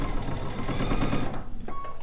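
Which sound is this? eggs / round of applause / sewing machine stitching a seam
sewing machine stitching a seam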